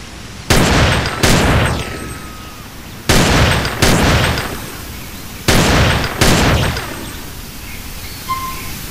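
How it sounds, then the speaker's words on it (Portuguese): Desert Eagle pistol shots in GTA San Andreas, fired in spaced pairs: five loud, sharp blasts arriving in three bursts, each trailing off in a brief echoing decay, no voices over them. "Desert Eagle, essa aqui é a arma original Desert Eagle"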